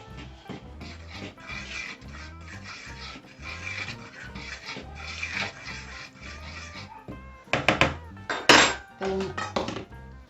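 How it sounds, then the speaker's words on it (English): A fork scrapes and taps in a bowl, mixing flour and mixed spice for Welsh cakes in a rhythmic series of close, soft scratches, then a few sharper clinks against the bowl near the end. "Mix that all together with a fork."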